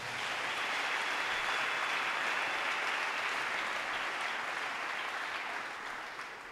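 A church congregation applauding together, a steady, dense wash of clapping that holds evenly at moderate volume and fades slightly toward the end, with no talk over it.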